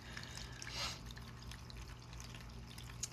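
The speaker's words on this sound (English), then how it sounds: "The noise in the background is a water fountain I got on Amazon by Sunny Days." A Sunny Days water fountain bubbling and trickling steadily in the background, soft and continuous with occasional brighter drips, no talk.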